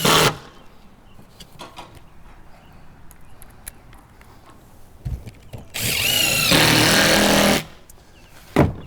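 Power drill driving 3-inch screws through a tarp on a storm-damaged house, with a short burst at the start and a longer loud whirring drive near the end, separated by quieter handling noises.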